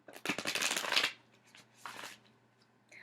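Tarot cards are shuffled in two quick bursts of riffling, the first longer and louder, the second shorter, with quiet pauses between.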